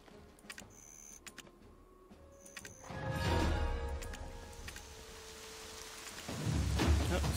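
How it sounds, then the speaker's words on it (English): Rain sets in within the Black Desert Online game world, a steady wash of falling rain that swells partway through and again near the end, with low rumbling beneath and scattered soft clicks before it starts. "Oh, sounds like it's raining."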